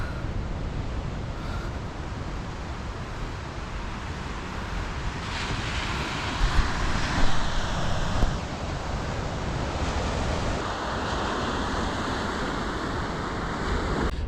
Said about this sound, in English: Oh, the ocean looks beautiful.